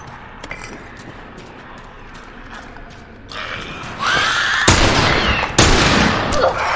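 Gunfire in The Last of Us Remastered video game: quiet ambience with faint ticks, then rising noise and two loud, sharp shots near the end.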